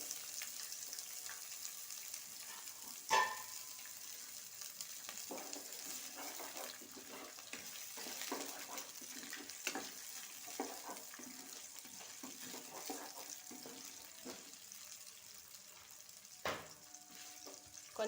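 Chopped onions frying in oil with tempering spices for upma, a steady soft sizzle close by with occasional sharp clinks and stirring scrapes, quiet overall.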